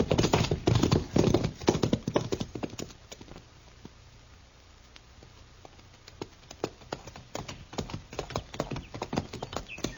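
Horses' hooves clip-clop on ground in the Old West as riders set off, a brisk rhythmic patter that thins out mid-way before returning strong and close.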